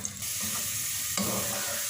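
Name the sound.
onion slices frying golden in oil, being stirred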